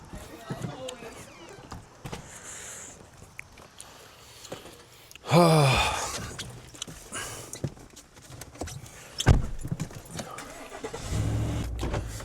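Car driving along a road, heard from inside as a steady low engine and road rumble with bumps and clunks, while people talk over it now and then.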